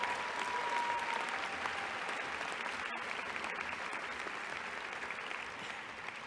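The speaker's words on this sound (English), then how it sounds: "I just clapped for a government agency at my graduation" Loud, dense audience applause fills a graduation ceremony, steady and sustained throughout, easing only slightly toward the end with no voices over it.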